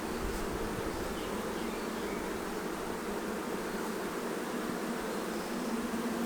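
Honeybees hum in a dense, continuous buzz close around an opened hive during a swarm-prevention check for capped queen cells, steady and unbroken with no voices.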